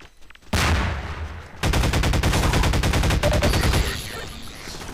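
Automatic gunfire in the video game Half-Life 2: a short burst, a pause, then a long rapid stream of shots, loud and close, tapering off into echoing ambience.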